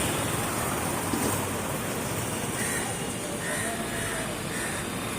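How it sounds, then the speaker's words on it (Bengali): Heavy rain pours steadily at an auto-rickshaw stand beneath a flowering tree, a dense continuous hiss with no breaks, close and fairly loud throughout. "প্রচুর পরিমাণে বৃষ্টি হচ্ছে, দাঁড়িয়ে গেছি।"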